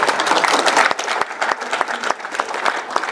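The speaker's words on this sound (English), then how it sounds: "you can applaud Senator White." Audience applause at an annual awards dinner, a loud burst of many hands clapping that thins into scattered, distinct claps toward the end, with no speech over it.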